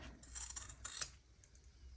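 Scissors clipping a fabric corner while sewing, a few quick close snips and soft metallic clicks over quiet room tone, no voices.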